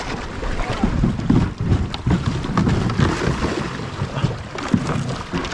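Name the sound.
Old Town Sportsman 120 kayak paddling through rapids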